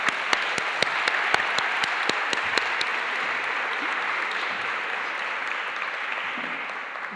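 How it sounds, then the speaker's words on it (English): An audience at an architecture lecture by Wang Shu applauds, a steady, even roar of clapping with a few sharp, close claps standing out early on, gradually easing. "And now, applause,"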